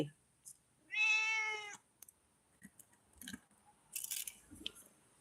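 A single drawn-out meow from a stray cat, clear and fairly close, followed by faint rustling and small handling noises.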